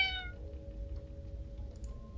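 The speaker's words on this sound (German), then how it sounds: "Wo ist die Katze? Da." Cat meowing in the video game 1954 Alcatraz, one short clear meow at the start followed by a quiet low background hum with faint game tones.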